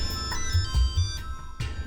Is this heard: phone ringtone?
yes